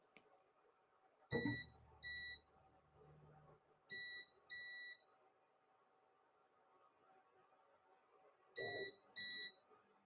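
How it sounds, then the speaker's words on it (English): A GooFoo Mido 3D printer beeps as its end stops trigger, giving crisp electronic double beeps in three pairs, each pair close to a soft mechanical clunk, against a quiet background. "every time an end stop's triggered, it beeps in a really annoying way"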